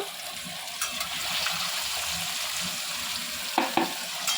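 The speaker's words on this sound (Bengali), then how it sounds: "আলুটা এবার ভাজা হয়ে এসেছে" Potatoes fry in a pan while preparing potato and mutton biryani, a steady close sizzle throughout with a couple of brief clinks near the end.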